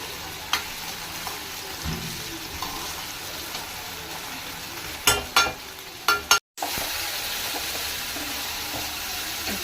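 Chicken frying in a pan at home makes a constant close sizzle, broken by several sharp clinks and scrapes of stirring, with a very brief dropout partway through.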